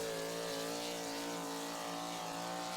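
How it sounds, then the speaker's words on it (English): A truck-pulling competition truck engine drones steadily at high revs, a continuous loud mechanical roar with a sustained harmonic whine and no talking. "I'm listening to that motor"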